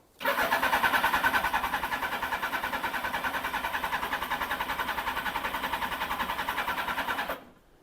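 A Suzuki GSX1100 motorcycle engine starts with the choke on and settles into a loud, steady, rapid idle close by, running evenly for about seven seconds before cutting off abruptly.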